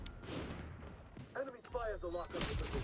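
Pistol gunshots in the shooter game XDefiant, a couple of sharp close bangs within a few seconds, mixed with game sounds and someone talking.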